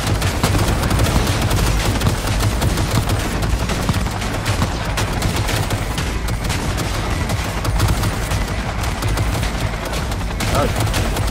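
Machine-gun turrets are shot at in Cyberpunk 2077: dense, loud bursts of rapid gunfire crackle almost without a break over several seconds, with heavy thuds mixed into the barrage.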